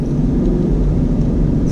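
2019 Ford Mustang GT Performance Pack V8 engine while driving, a loud steady low rumble from inside the car with a constant throaty drone and no clear revs or shifts, no speech.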